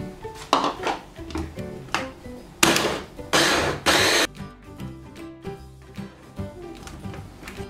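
Blender pulsing strawberries with tagatose for a healthy strawberry cheesecake: several short loud whirring bursts, the longest three in close succession, mixed with clattering jar and utensil knocks in a kitchen.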